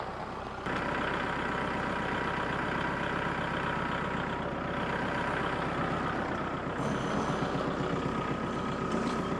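A big orange tractor's diesel engine running close by at a farm, a steady low rumbling chug that kicks in loudly after a brief quieter start and keeps going at an even level.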